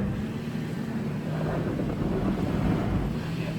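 A stock Subaru Crosstrek strains up an off-road hill with one tire spinning, a steady low engine drone and tire rumble under gusty wind buffeting the microphone, no voices.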